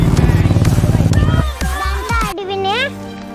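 Motorcycles pass on a road with a loud, steady engine drone that fades, followed by a short rising engine whine as children chatter nearby.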